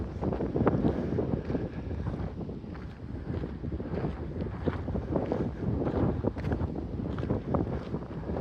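Steady wind buffeting the microphone, a continuous low rumbling roar with gusty surges throughout, no voices.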